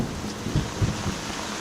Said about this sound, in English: Increasing rain.